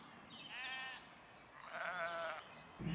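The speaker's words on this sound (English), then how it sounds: "and all of a sudden, some sheep." Sheep bleating near a river by a bridge on a harsh, sunny day, two drawn-out wavering calls at moderate distance over quiet background, no talking.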